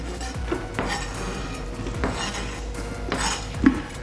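A knife cuts onion for quick kimchi, giving a series of close clacks and taps on a board mixed with rattling, dish-like clinks at an uneven pace, with no talk.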